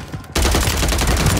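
Sustained gunfire in the shooter game Warzone 2, bursting in loud and dense after a brief quieter lead-in and continuing as a heavy, near barrage to the end.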